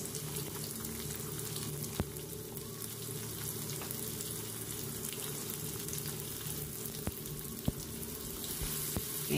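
Onions sautéing in a pan for pancit canton, a faint, steady background sizzle with a few sharp clicks of utensils scattered through, no voices over it.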